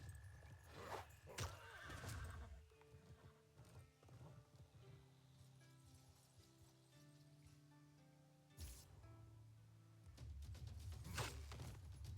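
Horses in Civilization 6 gameplay, with hoofbeats clopping and a whinny near the start and end around a quieter stretch of faint tonal game sound, no speech.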